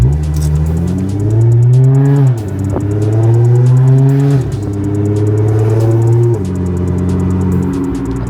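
An Audi S4 fitted with a new aftermarket exhaust revs hard while driving, its engine note climbing in several long pulls with brief drops between shifts, loud and steady from inside the car.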